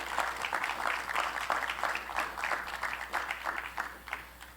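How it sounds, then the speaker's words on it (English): Round of applause from a film festival audience honoring a storytelling entry, steady massed clapping heard at moderate distance and somewhat faint, continuing evenly throughout. "So please join me in a round of applause to Unhappiness Road."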